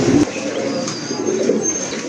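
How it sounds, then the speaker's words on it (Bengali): A pair of very large Indian Bombay pigeons coo with low, throaty, continuous rumbling, close and loud, with no voices heard over them. "অনেক বড় সাইজের এক জোড়া ইন্ডিয়ান বোম্বাই কবুতর"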